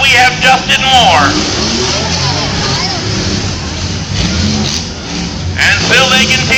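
Cars in a night demolition derby at a state fair rev and drone in a continuous rumble, engines rising and falling, under a loud announcer talking throughout.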